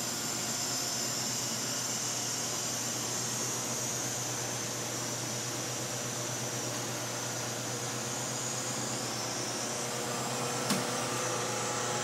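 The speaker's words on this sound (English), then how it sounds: "That's a pretty quiet compressor if you ask me, yeah?" A Boge air compressor idles in unload mode, producing a steady, even mechanical hum and airy hiss that runs unchanged throughout, with one faint click near the end.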